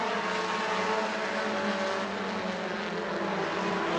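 Race cars roar around a track at an auto racing event, a continuous loud engine drone holding steady throughout with no breaks.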